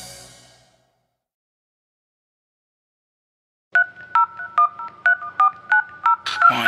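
A run of telephone keypad dialing tones: about a dozen short, evenly spaced beeps, loud and close, following a brief faint sound and several seconds of silence.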